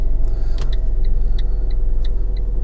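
A car engine with a fault idles steadily with a low rumble, while a regular, fairly quick ticking, like an indicator or relay, clicks on top throughout. No one talks.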